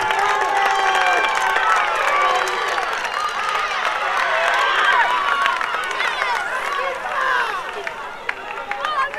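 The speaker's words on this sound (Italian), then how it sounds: "E il tifo del pubblico che si è scatenato in questo" Spectators shout and cheer loudly and continuously at the finish of a cycling race in Ghedi as a lone rider arrives, a dense crowd roar with whistles and high yells throughout.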